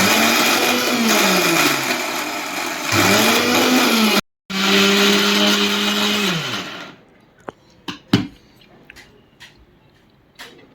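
An electric mixer grinder grinds curry leaf spice powder with a loud, whining motor in several long bursts and one short stop, then falls quiet apart from a few sharp clinks of the jar and lid.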